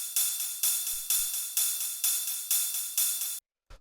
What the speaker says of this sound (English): After that, we have the ride, which sounds like this.